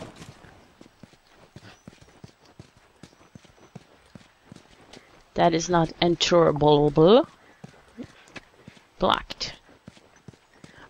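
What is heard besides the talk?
horse hooves clip-clopping, from video game The Last of Us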